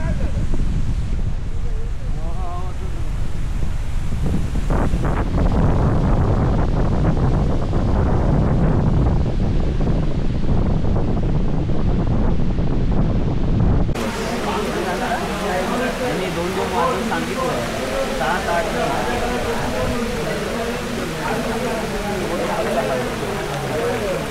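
Gusty wind buffets the microphone near a village lake under a stormy pre-rain sky, a loud rushing roar that shifts midway to a broader hiss, with voices talking in the background.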